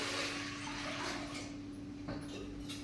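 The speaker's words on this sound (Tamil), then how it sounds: "இந்த தண்ணி வந்து சேர்த்துடலாம்" Water poured into a pan while preparing ragi laddu, a steady rushing splash that runs continuously for a few seconds, fairly loud and close, with no talk over it.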